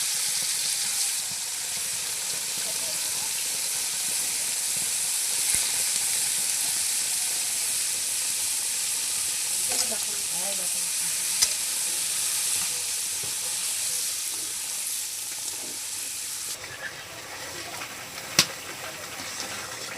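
A paste of turmeric, chili and coriander powder sizzles and hisses steadily in a hot pan in a village kitchen, with occasional stirring scrapes and faint clinks under the continuous frying.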